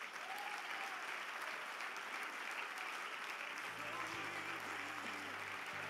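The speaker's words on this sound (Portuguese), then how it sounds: "dê um aplauso ao Senhor" A congregation at a church service applauds steadily and loudly throughout, a dense wash of clapping from many hands filling the room. Faint voices or music murmur beneath it toward the end.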